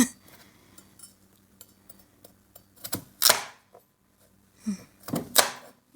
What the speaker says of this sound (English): These things are hard to cut when they're not cooked.